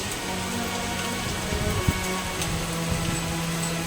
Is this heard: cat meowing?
no